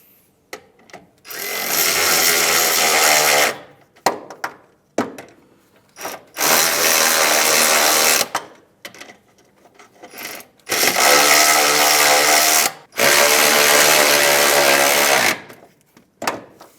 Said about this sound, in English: With our 14 millimeter, we're going to start to snug these up.